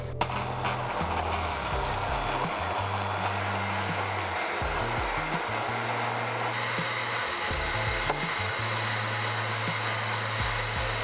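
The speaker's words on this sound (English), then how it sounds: "you want to whisk the eggs with the sugar until soft and fluffy" An electric whisk beats eggs with sugar for a moist carrot cake, giving a loud, continuous motor whine whose pitch shifts up and down as the beaters move through the bowl, with no talking.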